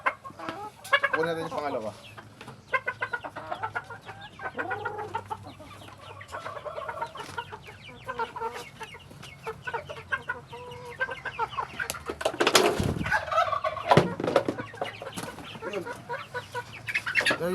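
A bulik Cobra rooster clucks in short, repeated bursts close by, with other chickens in the background and someone speaking over and between the calls; a brief louder scuffle sounds near the middle.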